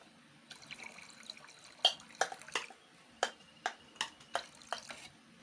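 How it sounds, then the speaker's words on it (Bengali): Water is poured from a clay pot into a mug for a chilled sharbat, giving a series of short, close splashes and drips at an uneven pace, fairly quiet with no voices. "জলটা আমি মগে ঢেলে নিচ্ছি"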